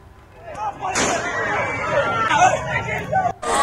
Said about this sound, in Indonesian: Tembakan ke udara terpaksa dilepaskan petugas kepolisian